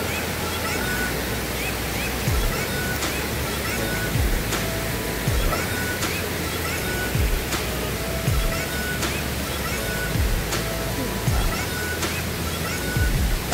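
Steady, loud rush of falling water at Batlag Falls, a waterfall. The dense roar fills the whole scene without pause, with faint clicks and movement close by.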